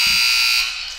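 A basketball scoreboard buzzer blares in a gym at a girls' high school game, one loud continuous electronic tone lasting about a second before it cuts off.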